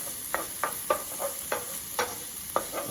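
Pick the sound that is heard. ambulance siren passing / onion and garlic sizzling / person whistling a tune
onion and garlic sizzling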